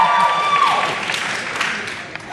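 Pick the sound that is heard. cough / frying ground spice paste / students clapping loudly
students clapping loudly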